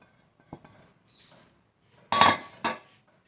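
Sesame, jaggery and roasted wheat flour are stirred together in a metal pan, giving a few sparse clinks and scrapes of a spoon against the pan, with two louder knocks near the end amid near silence.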